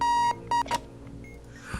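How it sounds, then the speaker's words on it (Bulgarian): An alarm clock in the bomb-defusing video game Keep Talking and Nobody Explodes gives two steady electronic beeps and a short third blip, then falls quiet under soft background hum. "тук има някакъв будилник"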